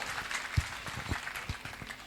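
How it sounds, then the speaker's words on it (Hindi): Brief burst of audience applause at a Hindi comic poetry gathering (hasya kavi sammelan), a crowd clapping together at moderate distance, fairly soft, with no one speaking over it. "जोरदार तालियां इनके लिए।"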